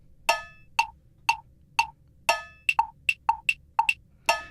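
Metronome app clicking a bar of 5/5: sharp, crisp electronic ticks, accented clicks marking bar starts, with a faster run of evenly spaced clicks in between, loud and isolated against near silence.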